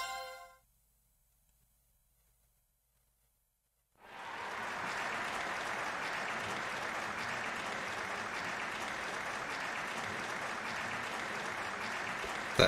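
Looped clapping sound effect from the video game Trails of Cold Steel, after an operetta scene: a short chime, near-silence for several seconds, then an even, continuous wash of game applause that repeats without variation.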